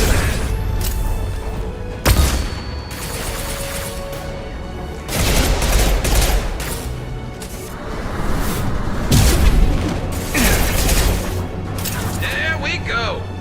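Gunfire and a flashbang blast in the Mass Effect 2 video game, with repeated loud booms and bursts of shots over a dense, continuous battle din, while voices talk over the action.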